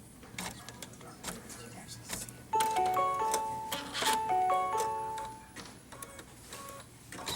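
Embroidery sewing machine stitching a placement line, with rapid mechanical clatter, quiet handling bumps and several short electronic beeps and whirring tones in the middle, close and fairly faint.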